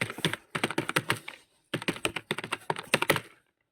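Typing on a computer keyboard while writing in Notepad: two bursts of rapid, close, clicky keystrokes separated by a short pause, with no voice.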